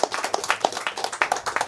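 A small audience claps in a brief burst of applause after a Sly Raccoon speedrun at a Finnish speedrunning event, the sharp handclaps fairly close and uneven.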